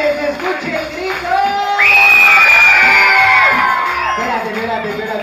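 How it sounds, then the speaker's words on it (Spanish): A crowd at a party shouts and cheers, rising from scattered voices into a loud sustained whoop and roar that holds for a couple of seconds, then tails off under lingering chatter. "Y que se escuche el grito."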